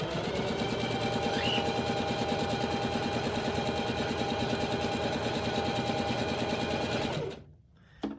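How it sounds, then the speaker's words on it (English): A sewing machine stitches elastic into a fabric mask in a fast, even mechanical chatter, running continuously for several seconds and then stopping abruptly, followed by a soft handling sound. "here I'm going to drop a couple stitches, but then I'm going to reverse over it twice because I really want to make sure that I've locked that elastic in there"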